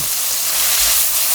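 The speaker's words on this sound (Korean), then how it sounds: "볶기 시작할 거예요." Chopped green onion stir-frying in a hot wok, a steady loud sizzle and crackle that fills the whole moment without pause, with no voices over it.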